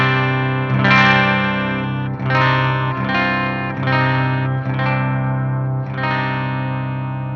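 Clean electric bass guitar through a Helix multi-effects unit, sustained notes with steady harmonics played in a slow phrase of about six plucked notes, loud and alone with a light ambient tail.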